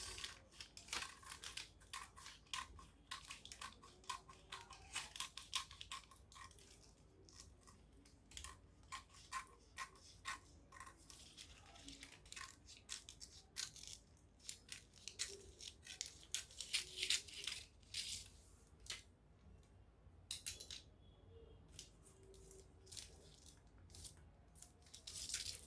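Scissors snip through ankara fabric being cut out for a bustier gown, a quiet, steady run of short crisp cuts and rustles close by, with no talking.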